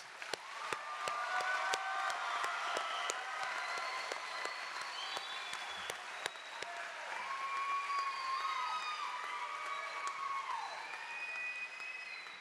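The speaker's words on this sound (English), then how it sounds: "Let's please give them a round of applause." Audience applause for nursing graduates at a Long Beach City College graduation ceremony: a dense, sustained wash of many hands clapping throughout, with scattered sharper claps and faint cheering in a large hall.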